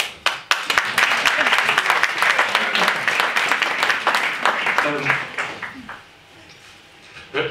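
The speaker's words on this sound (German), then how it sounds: "Hört mal mit den Klatschen auf" Clapping from an audience at a literary reading in a bakery, a few sharp claps first, then a dense burst that tapers off, with a voice speaking over the end.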